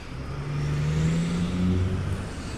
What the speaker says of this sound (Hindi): ये ट्रक जा रहा है, बड़ा शोर हो रहा है इसका